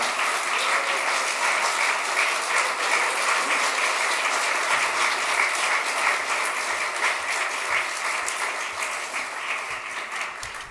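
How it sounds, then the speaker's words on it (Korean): Sustained applause from a church audience at a Friday evening Holy Spirit gathering, welcoming missionary Lee Jae-hwan; dense, steady clapping fills the whole stretch, tapering slightly toward the end. "우리가 늘 사랑하는 우리 이재환 선교사님 박수로 환영하겠습니다"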